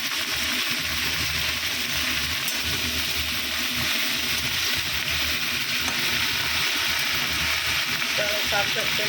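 Leafy greens and cauliflower fry in a pan after onions were browned, giving a loud, unbroken sizzle with a watery hiss that holds steady from start to finish.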